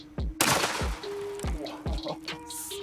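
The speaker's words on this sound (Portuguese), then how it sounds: "Vamos lá, primeiro disparo." A .44 Magnum revolver fired into a giant block of ice outdoors, several sharp loud bangs in irregular succession with debris and a short ringing tone between shots.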